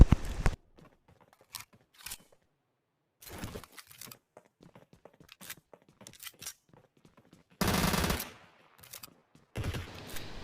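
SKS rifle shots in a battle royale video game, fired as a handful of sharp, separate bursts spaced across the clip. Quiet gaps sit between the shots, and the clip ends on a louder, longer blast.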